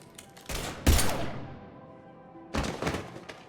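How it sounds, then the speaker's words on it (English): Gunfire in the video game Mass Effect Legendary Edition, with two or three sharp, loud bursts of shots separated by a quieter gap, each trailing off as it fades. "Now open fire!"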